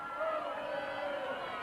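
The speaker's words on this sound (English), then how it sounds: "a crowd roars for the Foothillers" Crowd at a high school baseball game in a ballpark roaring steadily with broad cheering noise, a sustained swell of many voices throughout.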